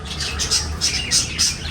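Lovebirds in an aviary give a run of sharp, loud squawks in quick bursts, close by with a constant background hiss.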